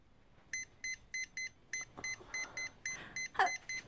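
Short electronic keypad tones tap out a number one by one, about a dozen evenly spaced beeps close to the phone, with a brief voice or rustle near the end.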